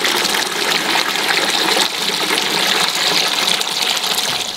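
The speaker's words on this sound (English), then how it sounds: "What I've done here is just stuck the bilge pump in the sump here and then got the outlet going into a waste" A bilge pump pushes sludgy water out of a steel trawler's sump into a waste container, a loud continuous gushing and trickling stream, close up and steady throughout, with no talking.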